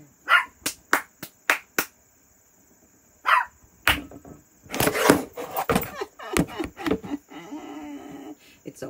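Dogs bark in sharp repeated bursts, first a quick run of yaps, then scattered louder barks mixed with voices talking in a home during a casual afternoon chat.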